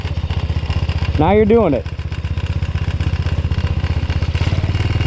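A motorcycle ridden by a learner at a steady low speed, its engine putting out an even, rapid low thump throughout; a voice briefly speaks over it near the start.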